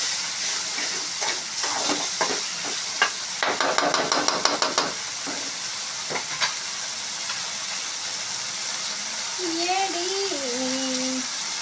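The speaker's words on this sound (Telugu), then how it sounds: "ఇలా బాగా కలుపుకోవాలి. అల్లం పట్టేటట్టు." Ginger being stirred and fried in a pan: a soft steady sizzle with scraping and clinking of a utensil against the pan, a busier burst of stirring in the middle, and a faint voice-like sound toward the end.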